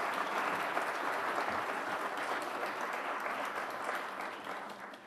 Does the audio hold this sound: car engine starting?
no